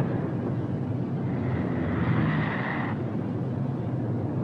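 Engines of a Boeing B-17 bomber drone steadily and loudly throughout, with the number four engine running poorly. The roar is continuous, with a faint higher tone rising partway through.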